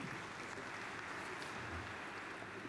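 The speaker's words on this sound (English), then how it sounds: "Thank you for the applause, dear audience." Steady, sustained applause from an audience at a plenary session of the Eastern Economic Forum, a dense even wash of clapping heard at a distance in a large hall, with no break.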